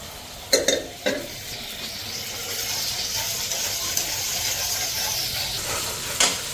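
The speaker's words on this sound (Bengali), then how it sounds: "এদিকে মশলা তেল ছেড়া দিছে আলু সয়াবিনটা দিয়ে দিই" Potatoes and soya chunks drop into hot spiced oil and sizzle steadily, with a few sharp clattering stirs near the start and again at the end, close and fairly loud with no talking.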